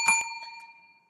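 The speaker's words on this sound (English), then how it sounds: "Where's my bell?" A small bell dings twice in quick succession, bright and metallic, its ringing tone fading away within about a second, with no talking.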